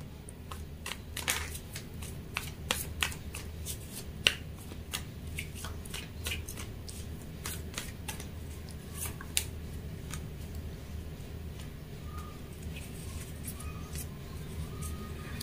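Tarot cards being shuffled by hand, a steady run of light papery riffles and flicks with sharp snaps scattered throughout, close and fairly quiet with no talking.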